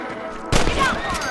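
A single sharp gunshot cracks out halfway through, close and loud, with a brief echoing tail, as rabbits are shot in the Western video game Red Dead Redemption.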